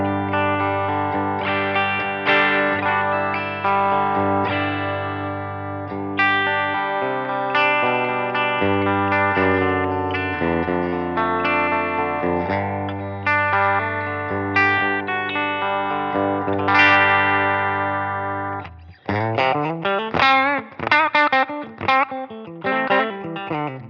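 A Godin Summit Classic electric guitar on its bridge pickup, played through a Line 6 Helix with a distorted, chorus-tinged tone, strums ringing chords and then switches to quick picked arpeggios, loud and alone.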